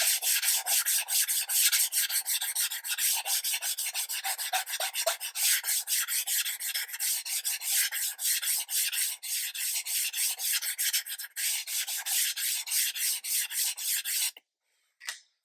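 Sandpaper of about 180 to 220 grit rubbing over a block of blue modeling foam: quick, even back-and-forth scratching strokes, close and continuous, stopping abruptly near the end.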